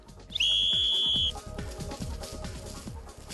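A shrill rescue whistle gives one sustained blast of about a second, loud and close, then stops; a rhythmic thumping continues underneath.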